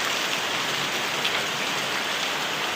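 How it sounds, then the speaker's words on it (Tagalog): Heavy rain pours down on a Saturday night during a storm with thunder and lightning. The downpour is a dense, steady, loud roar of close drops throughout, with no voices. "Malakas ng ulan ngayon."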